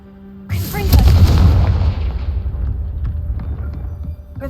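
The Confringo fire spell in Hogwarts Legacy bursts with a single sudden, heavy boom that rolls into a long, deep rumbling decay, loud and close.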